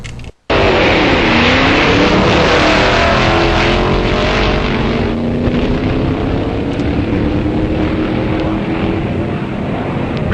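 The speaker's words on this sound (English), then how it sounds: "these film footage of nostalgia drag racing that we're going to show you tonight was shot at Oswego and US 30 Drag Strip" Nostalgia drag racing cars blast down the Oswego and US 30 drag strip, a loud continuous roaring engine drone that swells after a brief quiet start and holds steady throughout.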